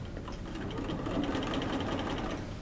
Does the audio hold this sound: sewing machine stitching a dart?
yes